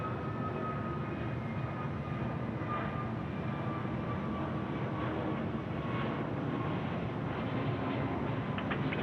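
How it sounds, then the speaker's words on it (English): Jetstar airliner taking off from runway 34 left at Sydney Airport at night, a steady, broad engine roar that holds for the whole stretch, fairly distant and without any talk over it. "Jetstar getting away there at 34 left."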